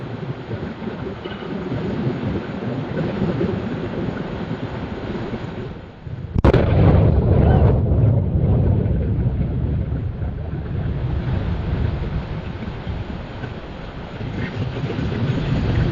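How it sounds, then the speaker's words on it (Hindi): The Blue Origin New Glenn rocket blows up with a sudden heavy boom that swells into a long, roaring rumble above constant wind buffeting the microphone; no voices are heard. "अब आप इस रॉकेट ब्लास्ट का एक दूसरा वीडियो देखिए, कैसे सिर्फ कुछ सेकंड में सब कुछ जलकर राख हो गया।"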